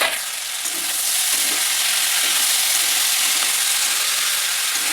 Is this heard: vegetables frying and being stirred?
yes